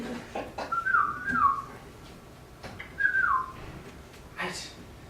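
A person whistles an imitation of an elf call, two rising-then-falling warbling phrases with a short gap between them, fairly close, alongside faint breathy background noise.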